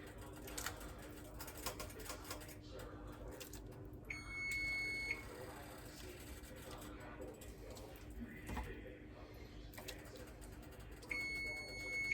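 A kitchen timer beeps in short high-pitched repeated bursts during cooking of Green Bay booyah, with kitchen clatter and background noise around it, and the beeping comes back after a pause.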